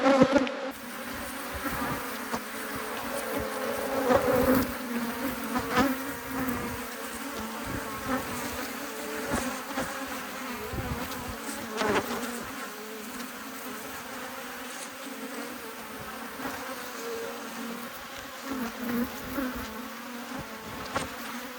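A dense swarm of honey bees hums steadily around a hive frame full of honey, a continuous close drone that swells and dips slightly with individual bees passing nearby.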